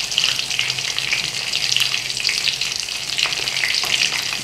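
Spices frying for mixed pickle in lukewarm oil give a steady, close crackling sizzle that runs unbroken throughout, with no voices over it.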